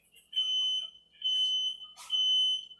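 A very sensitive home smoke detector in a kitchen blares its high-pitched alarm in three long, loud beeping bursts separated by short gaps, alone with no talking.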